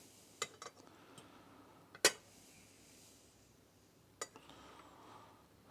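Spoon and fork clink against a steak pan while pepper steak is prepared: a few sparse, sharp metallic taps separated by quiet stretches, faint and close, with no talking.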